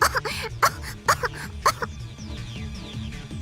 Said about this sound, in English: Ferris coughs, shaking wheat flour off of her clothes and hair.